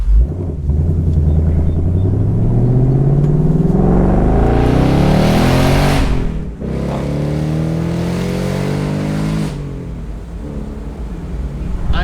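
A 2019 Ford Mustang GT with its exhaust in stock mode pulls hard and revs up, the engine pitch climbing loudly, then dropping at a gear change around six seconds and building again before easing off.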